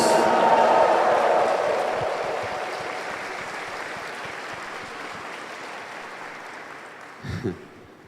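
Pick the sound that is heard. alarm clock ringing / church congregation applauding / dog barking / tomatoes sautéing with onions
church congregation applauding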